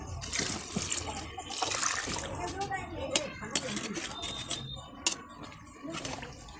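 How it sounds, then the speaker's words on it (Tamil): Water pours steadily into a pot of rice for biryani on a wood-fired stove, a splashy rushing that gives way to lighter trickles and a few sharp clinks. "இந்த அரிசிக்கு தேவையான தண்ணி ஆட் பண்ணிக்கலாம்."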